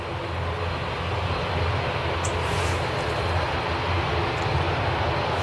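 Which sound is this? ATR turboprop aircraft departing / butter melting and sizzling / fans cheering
ATR turboprop aircraft departing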